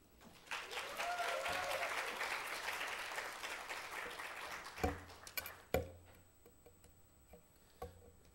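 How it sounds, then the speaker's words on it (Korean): Church youth group congregation applauding and cheering for their pastor during a worship service, a dense sustained clapping that fades after about five seconds into a few scattered loud claps. "존경과 사랑을 담아 박수."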